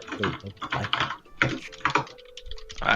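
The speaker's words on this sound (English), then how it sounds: "I can't hear you over the tapping of some people's keyboards." Rapid tapping on computer keyboards, several people typing at once in bursts of quick clicks, close and fairly loud, with a brief electronic tone and some talk mixed in.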